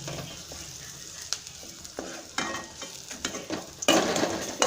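Onion, garlic and cumin powder fry in oil as a spatula stirs them, with scraping knocks against the pan and a sizzle that swells loudest near the end.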